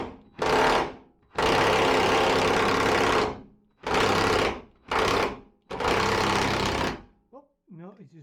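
An impact wrench with a 24 socket works a seized nut on the clutch slave cylinder of a Classic Mini, firing in five loud, close rattling bursts of uneven length, followed by brief talk.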